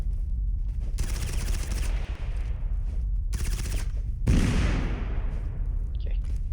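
Gunfire between two enemies in the video game Totally Accurate Battlegrounds: repeated loud bursts of rapid automatic fire separated by short pauses, with a heavier blast near the end.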